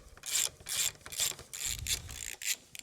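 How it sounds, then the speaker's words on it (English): An 18mm socket ratchet loosening a motorbike rear axle nut clicks in repeated quick bursts, about six rhythmic ratcheting strokes up close, each a crisp metallic pawl chatter. "We're gonna take a 18mm socket on the other side. We're just gonna put it on this nut right here. And we're gonna break this free."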